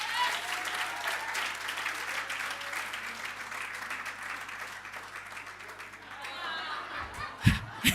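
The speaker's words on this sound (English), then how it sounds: "Can we please give her a big round of applause?" Audience applause at a ministerial campaign launch event, a steady wash of clapping from a crowd with some chuckles mixed in, ending with a few louder claps.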